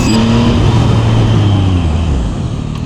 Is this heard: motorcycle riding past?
yes